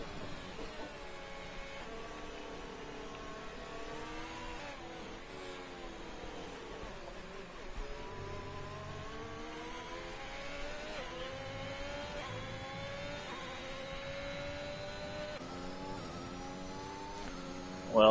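Race car engine in the F1 2021 video game, revving out through each gear on a wet track at the Chinese Grand Prix, with a steady high whine that climbs and drops with every shift, loud and continuous.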